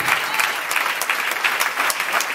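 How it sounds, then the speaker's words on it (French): A church congregation at a children's Christmas tree celebration claps vigorously and continuously, with brisk, slightly accented hand claps filling the space. "On acclame encore le Seigneur, encore plus fort"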